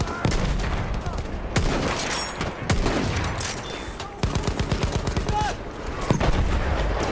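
A light machine gun fires in War Pigeons, with rapid automatic bursts and scattered shots from several weapons in a busy online battle, loud and close, and a player's voice talking over parts of it.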